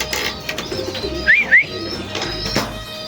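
A racing pigeon arriving home at a loft during a derby race lets out two quick rising coos in the middle, set against a low, noisy outdoor background with no talking.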